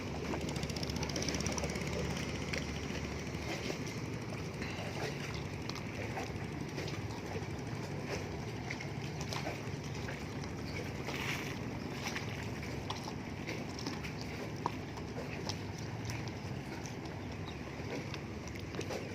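Fishing boat engines on the Pattani River make a steady, continuous rumble and drone that stays broad and unbroken throughout, with water and wind noise mixed in and no speech.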